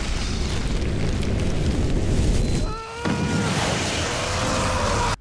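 A loud, continuous roaring blast of high-powered air and powder debris on a miniature paper set, with a brief dip midway before the burst resumes at full force.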